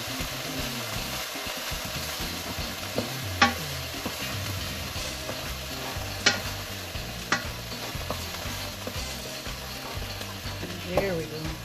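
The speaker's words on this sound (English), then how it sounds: "I'm going to add in the garlic. I'm only going to cook this for about a minute." Minced garlic sizzles and is stirred in a hot pan alongside seared beef strips for a keto broccoli beef, a steady frying hiss broken by a few sharp utensil clinks and scrapes.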